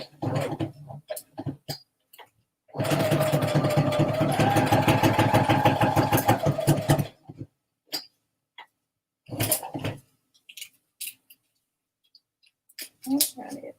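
A sewing machine stitching, a close buzzing run of rapid stitches lasting several seconds, then shorter bursts, set between brief spoken comments and quiet gaps.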